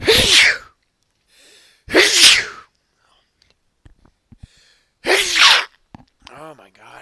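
Three sharp, loud sneezes spaced a few seconds apart, each with a forceful burst, separated by quiet gaps with faint soft sounds and a brief spoken exclamation near the end.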